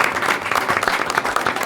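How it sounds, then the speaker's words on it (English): An audience at a school board meeting and tenure reception applauds in a brisk, lively burst of clapping, close and fairly loud throughout. "we give Lila a round of applause for just doing a great job"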